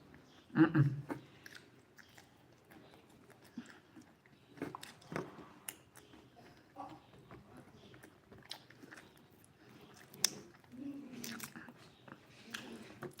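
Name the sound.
chewing groundnuts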